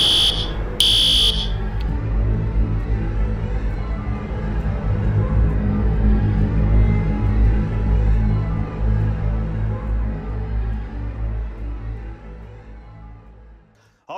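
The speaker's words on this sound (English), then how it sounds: "Oh, that's just what we need. A fire alarm." Fire alarm sounding over a dense, loud, continuous wash of low rumbling noise that swells and fades toward the end, with a brief high beeping tone near the start; no clear talk.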